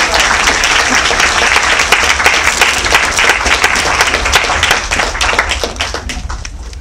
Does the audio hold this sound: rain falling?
no